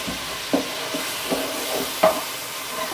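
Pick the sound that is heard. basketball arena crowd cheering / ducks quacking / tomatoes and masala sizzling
tomatoes and masala sizzling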